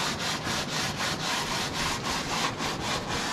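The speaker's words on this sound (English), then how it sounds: "Should I just run it over with the sanding block?" A sanding block is rubbed back and forth over wood during releathering work on an 1890 J.G. Pfeffer organ reservoir, giving a close, steady rhythmic scraping of repeated even strokes, with no talking.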